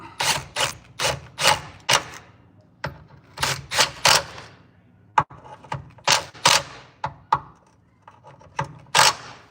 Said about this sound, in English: we're going to put the old impact on these right here